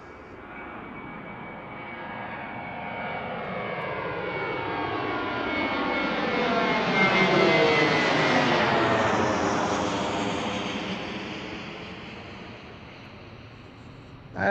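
A jet airliner lands at Washington Reagan National Airport, its engine roar swelling steadily from a distance to a loud, broad peak near the middle before slowly fading away, with a clear falling pitch sweep as the aircraft passes.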